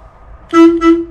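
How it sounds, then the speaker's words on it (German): A VW T2 van horn sounds twice in quick succession, a loud, close double honk after a moment of quiet. "Hupe geht."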